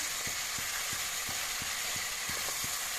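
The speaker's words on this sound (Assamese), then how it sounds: "এতিয়া মাংসখিনি মই এফালৰ পৰা লৰাই লৈ লৰাই লগাই যাম" Chicken pieces frying in a pan for chicken curry give a continuous hiss. A spatula knocks and scrapes in a regular rhythm of roughly three strokes a second, close and unaccompanied by speech.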